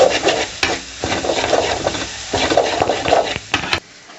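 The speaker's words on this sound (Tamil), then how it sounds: "இப்போ இது எல்லாத்தையும் சேர்த்துட்டு நல்லா மிக்ஸ் பண்ணி விட்டுக்கலாம்." Masala and pepper powders are stirred together in a hot pan for Tamil egg chutney (muttai chutney), with close, loud scraping strokes and a soft sizzle underneath across a few seconds, no voices.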